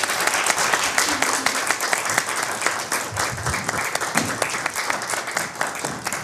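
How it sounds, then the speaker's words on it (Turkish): A TV studio audience gives sustained, dense applause to welcome a party chairman onto a Turkish talk show, loud and steady throughout with a few voices mixed in. "Güzel alkışlarınızla Genel Başkanımız Halil Bakan huzurlarınızı alıyorum lütfen."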